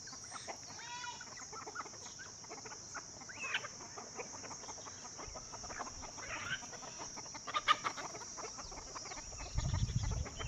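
Desi country chickens cluck on a farm, with scattered soft clucks and calls at a moderate distance over a faint steady background hum, and a brief rustling thump near the end.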